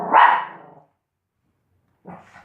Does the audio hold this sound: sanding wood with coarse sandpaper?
no